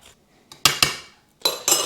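Metal spoon scraping and clanking against a pot while baked beans and pork are stirred together, in four sharp bursts after a near-silent start, close and fairly loud.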